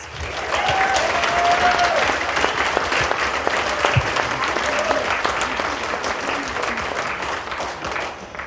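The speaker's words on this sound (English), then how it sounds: "So what about a round of applause for the parents?" Wedding guests give the parents a long round of steady applause at the ceremony, a dense, even wash of clapping with a few voices faintly underneath.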